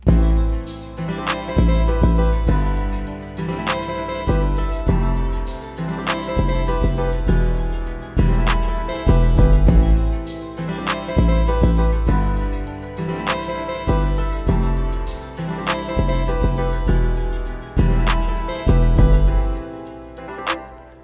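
A loud, repeating hip-hop beat with a booming 808 bass, thickened by a shimmering chorus, under punchy drum hits and bright layered synths.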